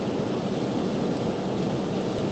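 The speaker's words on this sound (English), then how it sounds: "We're actually on the road and it's pouring down rain" Heavy pouring rain hits a car on the road, a dense, steady broadband roar of drumming water that stays loud and unbroken throughout.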